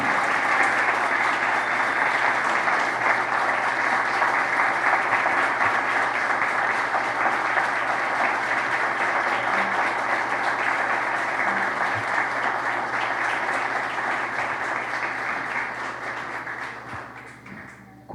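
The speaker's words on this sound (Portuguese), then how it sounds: "eu solicito aqui a todos que nós possamos fazer uma grande salva de palmas, né, em homenagem a Onildo Almeida" A large audience at an honorary doctorate ceremony applauds in honour of Onildo Almeida, a long, dense and even roar of many clapping hands that holds steady before fading out near the end.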